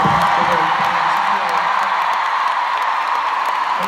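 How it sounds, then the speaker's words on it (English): A large concert crowd at a show in Prague applauds and cheers, a dense, steady roar of clapping and shouting that fills the whole stretch at a constant loud level. "give them a round of applause one more time"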